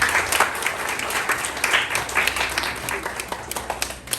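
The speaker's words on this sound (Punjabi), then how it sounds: "ਇੱਕ ਤਾੜੀ ਇਹਨਾਂ ਦੇ ਨਾਂ ਦੀ ਲਾ ਦਿਓ ਜ਼ਰੂਰ" An audience at a Punjabi cultural art camp and exhibition event bursts into loud, sustained applause, many hands clapping together close by for several seconds.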